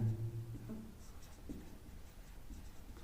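Chalk or marker strokes scratch across a classroom board during a chemistry lesson, soft close scraping in short bursts with a low hum behind.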